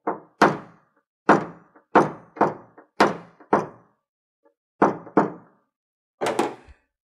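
A dented car body panel is knocked down with a metal dent tool: a series of sharp, close thunking taps, often in quick pairs, separated by short silences.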